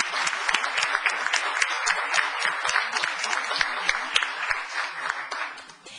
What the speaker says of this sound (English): applause for everybody.